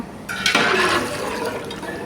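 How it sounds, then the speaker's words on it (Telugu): Water is poured into a pot of biryani being cooked, starting with a sudden gushing splash and settling into a steady, loud rush of liquid filling the vessel. "ఇదిగోండి నీళ్ళు అయితే పోసానండి"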